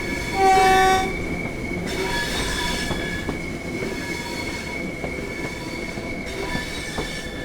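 A DMU train driven in the video game Train Sim World 5 runs along the line with a steady diesel engine rumble, sustained wheel tones and a brief loud horn blast near the start, heard close with no talking.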